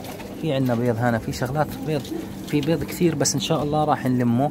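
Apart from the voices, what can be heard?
pigeons cooing in a pigeon loft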